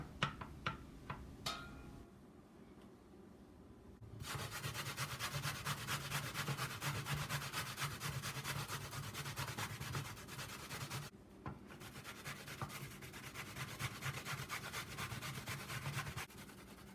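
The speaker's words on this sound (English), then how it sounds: "Into reasonable size because I'm going to grate it and I want to be able to grate it nicely." Green plantain being grated by hand, a steady scraping rasp that starts after a few light taps and runs in long continuous strokes, close and loud, with a brief pause midway.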